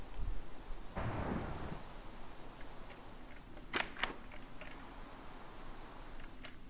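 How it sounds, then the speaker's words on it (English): A thunderstorm in the Minecraft video game rumbles faintly, with a low thunder roll early on, soft rain-like hiss, and a few brief crackling ticks, all quiet and distant. "Thunderstorm."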